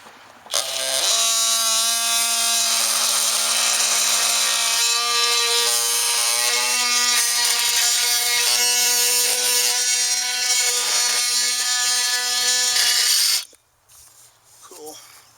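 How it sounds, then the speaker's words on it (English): An oscillating multi-tool cuts during backyard spigot repair work, giving a loud, steady, close buzzing whine that runs for about twelve seconds before cutting off abruptly. "If you don't have one of these oscillating tools, get one."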